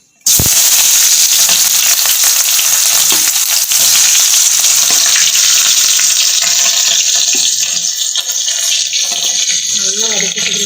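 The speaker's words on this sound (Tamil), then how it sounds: "இந்த ஸ்டேஜில் நம்ம ஆனியன் உள்ள போட்டுக்கலாம்." Onions drop into very hot oil for chicken fried rice and burst into a loud, dense sizzle that roars on continuously, close up, with a few faint clinks beneath it.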